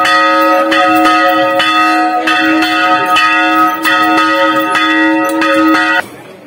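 Church bells peal from a tower at a camp in Kakopetria, Cyprus, a bright layered ringing with repeated strikes about every second, loud and close, sustained for six seconds before cutting off.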